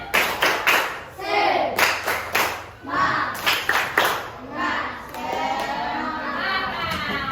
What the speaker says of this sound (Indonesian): Oke, tepuk semangat dulu nak.